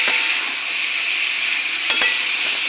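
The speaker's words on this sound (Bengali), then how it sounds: "কাটা রাখা শীতের সবজিগুলি আমি ঢেলে দেব সবজিটা পুরনের সঙ্গে মিশে নেই" Winter vegetables tipped into a spiced filling in a frying pan, giving a steady close sizzle with soft stirring scrapes and a couple of brief sharper knocks, with no voices.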